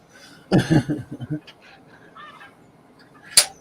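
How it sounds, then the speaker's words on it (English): Geese honking just outside, a cluster of loud nearby honks followed by softer scattered calls and one sharp final honk. "the geese are just outside"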